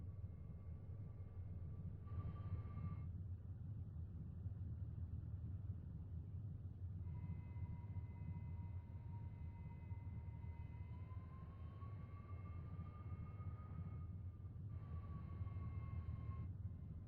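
A Mirage 2000C jet taxis in DCS World 2.5. A steady, low engine rumble runs throughout under a thin, high turbine whine that rises and falls in pitch. It is continuous and even, with no voices.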